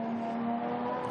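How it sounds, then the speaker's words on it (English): A racing car engine at the Spa Classic holds a steady, loud revving drone on track, with a brief sharper burst at the end. "the full course yellow has been withdrawn because those engines out on track were being revved sufficiently"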